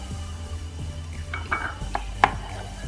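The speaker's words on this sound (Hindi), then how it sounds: "मैदे को हम भून लेंगे, इससे अच्छा टेस्ट आएगा" Maida flour being dry-roasted in a pan gives a low background hum with soft scraping stirs and a few light metallic clinks of a spoon against the pan, the last one sharper and louder.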